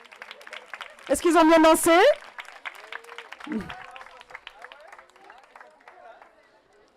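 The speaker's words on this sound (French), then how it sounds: "Vous pouvez les applaudir." An audience applauds after children's games at a talk, a loud burst of clapping lasting about a second before a presenter speaks again over the quiet room.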